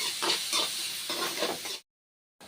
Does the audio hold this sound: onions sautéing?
yes